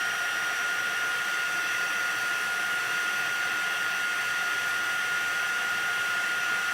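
A heat tool blows a steady, loud, hissing whir without a break while it melts heat embossing powder on a rubber-stamped image, close and alone.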